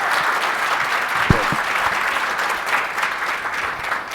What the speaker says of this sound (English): I just want you to give some applause